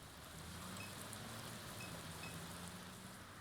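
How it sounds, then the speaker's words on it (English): Steady downpour of rain in the video game Norco, a continuous dense hiss that stays even and close throughout with no voices. "The downpour finds its way into the drainage canal, its water level slowly rising."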